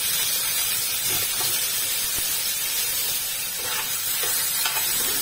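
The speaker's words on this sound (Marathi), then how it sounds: "केळ्याचे तुकडे तेलावर चांगले परतून घ्यायचे, म्हणजे त्याचा चिकटपणा असतो तो निघून जातो." Raw banana pieces sauté in hot oil with cumin seeds and chopped green chili, giving a steady, close hiss and sizzle with no voices.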